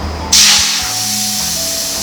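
A sharp, loud burst of compressed air hisses through the air swivel of a wheel polisher, starting abruptly and then settling into a steady, constant hiss.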